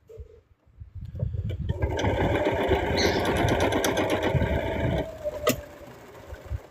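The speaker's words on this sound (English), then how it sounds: "I'm going to want to back stitch just a little bit because that thread just kind of ran out" A sewing machine stitches a plush toy in one steady, fast mechanical run of about three seconds, close and fairly loud, ending with a brief back stitch after a thread ran out.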